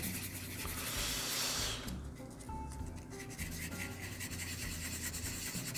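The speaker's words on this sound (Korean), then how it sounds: "400방 사포가 닿았던 곳은 꼭 600방으로 한번 600번으로 한번 해주세요." Sandpaper rubbed by hand over a 1/24 scale Hasegawa Mazda Cosmo Sport L10B model car body, making a steady close scratchy rasp in short repeated strokes with no talking.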